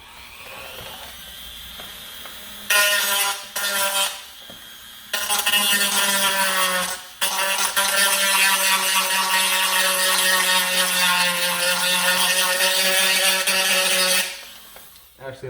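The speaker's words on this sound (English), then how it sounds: "Sander here." Small handheld power rotary sander whirring at high pitch on a DZP masterkey kit part, starting and stopping in short bursts, then running steadily and loudly close by before winding down.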